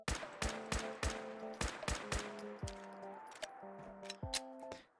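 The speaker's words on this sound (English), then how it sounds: "So here we start with the 45 caliber pistol, and I believe this is using the combat rifle sounds." A .45 caliber pistol in Fallout 4 fires about a dozen sharp shots using combat rifle sounds, each crack followed by a brief metallic ring, in a fairly quick irregular rhythm, no talk.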